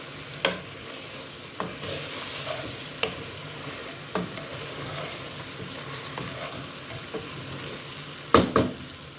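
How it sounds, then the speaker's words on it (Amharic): Meat for majboos lahm fries in a pot with a continuous sizzle, broken by intermittent scraping clicks and knocks as a spoon stirs it, close and fairly loud. "በአንድ ሄደ እያማሰልኩ ነው"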